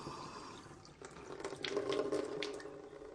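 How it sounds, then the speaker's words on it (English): Well water pouring from a tap into a sink, a steady close splashing rush that swells and grows fuller after the first second, alone without speech. "As the water is running"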